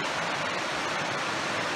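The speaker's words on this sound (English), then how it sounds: "sound of the brook here." Brook flowing along a Newfoundland trapline in season, a steady, even rush of running water filling the scene, close and unbroken with no voices.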